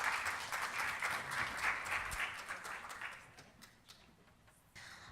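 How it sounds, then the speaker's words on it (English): An audience at a blood pressure symposium claps for the speakers, a dense round of applause that gradually thins out into scattered individual claps. "let's give our speakers a round of applause"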